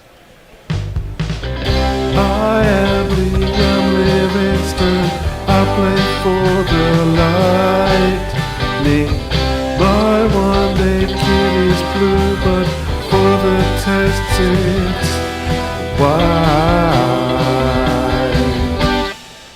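A cricket walk-on jingle for a player: a loud, steady music track with a voice speaking lines about himself over it. It runs continuously for the whole stretch.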